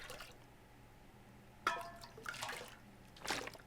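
Water collected from a toilet in the survival game The Long Dark, heard as a few short liquid sloshes and drips, quiet and separated by pauses.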